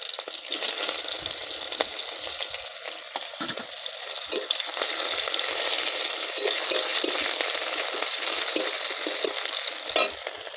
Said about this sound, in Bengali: তেল গরম হয়ে গেছে, আমি একটু কালো জিরা দিয়ে দিচ্ছি, তেজপাতা, শুকনো লঙ্কা, পেঁয়াজ